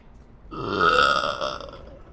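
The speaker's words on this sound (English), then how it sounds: "I burped." A single long, loud burp swells and fades over about a second and a half, close and alone, with no talking over it.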